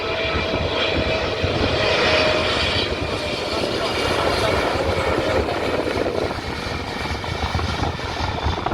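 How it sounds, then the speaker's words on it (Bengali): An Emirates airliner arriving from Dubai lands on an airport runway, a loud, continuous jet roar with broadband rumble and whine that holds steady throughout. "চলে আসে আরেকটি বিমান এমিরাটস এয়ারলাইন সুদূর দুবাই থেকে চলে এসেছে বিমানটি"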